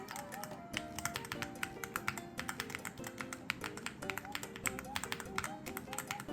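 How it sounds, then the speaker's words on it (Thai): Rapid, close typing on a mechanical keyboard fitted with Outemu Panda tactile 3-pin switches gives crisp, bumpy clacks in a busy rhythm, with faint musical tones underneath. "โอเตมูแพนด้าสวิตช์เป็นสวิตช์3พินที่กด2จังหวะตอบสนองไวและมีเสียงท็อก"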